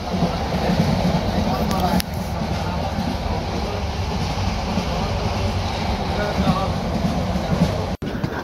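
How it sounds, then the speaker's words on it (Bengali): Passenger train in motion between Bangladeshi stations, a steady loud rumble and rattle running throughout with a brief dropout near the end; voices murmur faintly within the noise. "আমরা ট্রেনে ভ্রমণ করতেছি"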